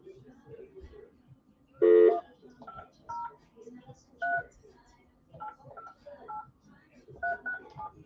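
Telephone number dialed on a keypad: a quick burst of DTMF tones near two seconds, loud and distinct, with casual talk before and after in a morning-show studio.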